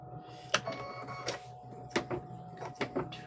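A sewing machine stitches a fabric patch in short irregular bursts, each quick run of needle clatter separated by brief pauses over a steady low motor hum, fairly close and moderately quiet.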